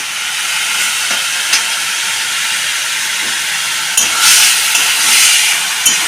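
A loud, steady sizzle of masala frying in a pan, with a few sharper bursts of hissing as fried potatoes are added and stirred.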